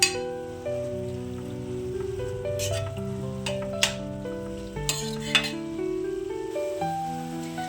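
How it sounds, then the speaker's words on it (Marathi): Carrot halwa with milk is stirred in a pan, a spoon scraping and clinking against the metal over a soft simmering sizzle, with a few sharper knocks partway through. "हे परत एकसारखं मिक्स करून घेणार आहोत आपण"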